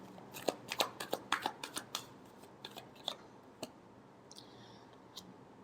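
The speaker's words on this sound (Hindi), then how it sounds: "Last shuffle." Tarot cards are shuffled by hand in a quiet room, giving a quick run of crisp riffling clicks and snaps that thin out into a few sparse taps, with no talking.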